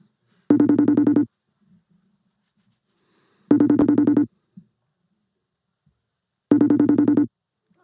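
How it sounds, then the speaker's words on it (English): A telephone rings out on a placed call, three electronic buzzing rings about three seconds apart with silence in between. "We should call Nicole"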